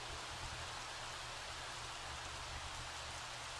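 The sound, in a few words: rain falling in the video game The Sims 3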